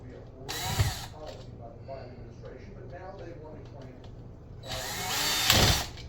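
Screws on a GFI outlet's wires are loosened with a power driver: two short, close whirring bursts, one near the start and one near the end, with a person talking in between.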